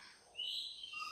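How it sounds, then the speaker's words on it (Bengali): An oriental magpie-robin (doel) calls once in a clear, rising whistle that drifts into a sustained tone, fairly close and alone against a quiet outdoor background. "ওই যে দেখছেন দোয়েল পাখি"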